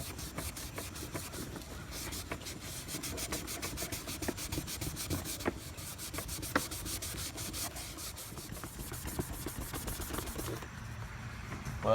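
A rag dampened with paint thinner is scrubbed hard over oxidized black quad plastic, making quick, repeated rubbing strokes. The swishing is close and soft but rhythmic and keeps going steadily throughout.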